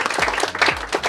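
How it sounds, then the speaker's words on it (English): Wedding guests applaud together in a sustained round of clapping, moderately loud and continuous throughout, with no voices rising above it. "Everybody give Greg a big round of applause."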